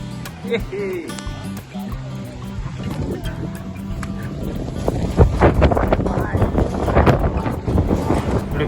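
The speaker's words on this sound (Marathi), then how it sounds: "पाऊस आणि वारा एवढ्या प्रमाणात आहे ना त्याच्यामुळे छत्री पण उडू शकत नाही" Strong wind roars and buffets steadily throughout in heavy rain at Kavlesad waterfall, Amboli, with a rushing, splashing wash that grows louder toward the end; voices come through faintly underneath.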